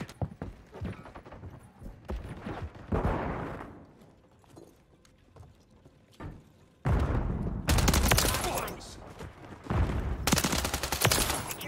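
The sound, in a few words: shotgun gunfire in Call of Duty video game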